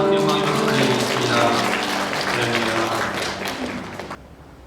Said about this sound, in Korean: 우리를 이곳으로 부르신 하나님께 영광의 박수를 드리겠습니다